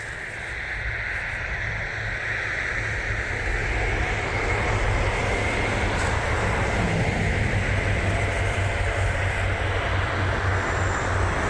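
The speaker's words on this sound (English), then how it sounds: "Got a train coming." A low, steady rumble builds and holds as a train passes nearby at Bannockburn station in Stirling, Scotland, a continuous roar of wheels and engine with no voices.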